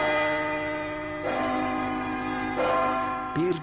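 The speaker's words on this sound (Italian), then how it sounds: "andiamo a suonare la campana" A church bell is struck in an Italian setting, giving several resonant, ringing strikes spaced about a second apart whose tones sustain and overlap, loud and fairly close.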